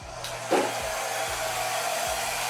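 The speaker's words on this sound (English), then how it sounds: "We'll use my hairdryer" A hair dryer blows paint on a fluid art canvas with a steady airy whoosh, close and continuous, with low thumping knocks recurring underneath.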